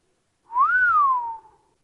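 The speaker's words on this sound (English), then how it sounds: "He gives a low whistle." A single low whistle, a smooth tone that rises and then glides slowly downward, clear and close, lasting about a second with silence around it.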